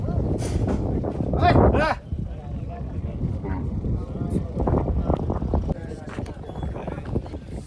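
Bulls low and moo over a busy outdoor crowd at a bullock cart race in Nashik, with a loud bellow early on and people talking throughout.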